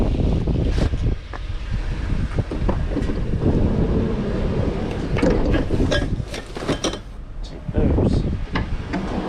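Heavy wind buffeting the microphone outdoors during autumn trash picking, a loud, continuous roar with gusty surges throughout.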